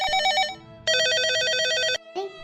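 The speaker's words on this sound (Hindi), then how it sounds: "ये तो सुहानी दीदी का फोन आ रहा है।" A telephone rings in a Hindi family cartoon, in repeated bursts of bright electronic trills with a short gap and a brief final burst, loud and alone with no talk.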